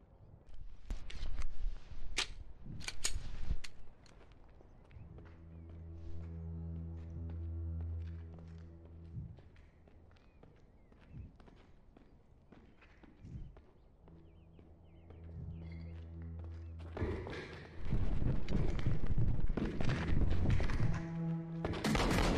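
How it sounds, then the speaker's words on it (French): Gunshots in a first-person shooter video game: sharp bangs and thuds cluster at the start, a humming lull follows, then a dense, loud run of shots and impacts closes the stretch. "Shots fired! Shots fired!"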